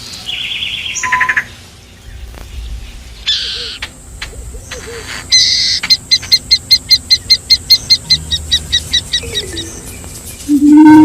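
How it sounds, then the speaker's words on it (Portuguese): Shrike calls in the Okavango at dawn, scattered chirps and whistles building into a fast run of repeated sharp notes, close and clear with other birds faintly around. "Outro som bastante característico do Okavango é o do picanço"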